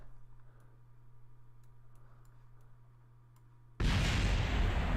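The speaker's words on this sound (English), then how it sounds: "Why are there explosions?" In Kerbal Space Program, a sudden loud explosion bursts in after several seconds of low hum and faint ticking, then roars on as a broad, sustained blast.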